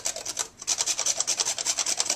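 Frozen ginger rubbed against a grater over pumpkin squash soup: quick rhythmic rasping strokes, about a dozen in two seconds, close and crisp after a brief pause, no talking.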